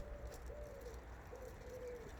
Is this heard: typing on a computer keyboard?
no